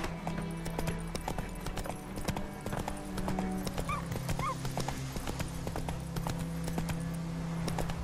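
Horse hooves clip-clop steadily in The Witcher 3 video game, a continuous rhythmic trotting close by, with a brief whinny-like call midway and a faint voice.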